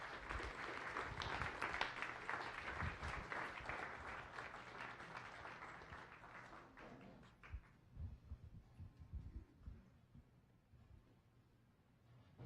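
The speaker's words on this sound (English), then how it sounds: "give them a warm round of applause as they make their way up" An audience at a science cafe talk applauds warmly as guests walk up to the stage, a dense sustained clapping that gradually thins into scattered claps and footsteps before dying down.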